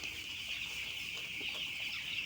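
Broiler chickens in a poultry shed, being given Gumboro vaccine in drinking water, make a steady dense clucking and chirping din that stays loud and unbroken throughout, with no talk.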